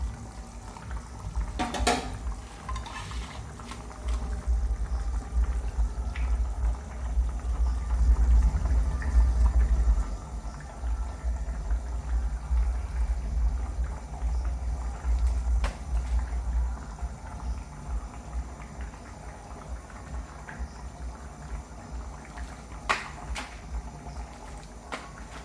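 Vegetable curry gravy simmering in a pan, a low steady bubbling that swells in the middle and continues throughout, with a few faint clinks of utensils.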